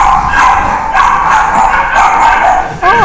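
Several dogs indoors during a podcast recording, giving loud, close yelping and whimpering barks that overlap continuously, ending with a high whine.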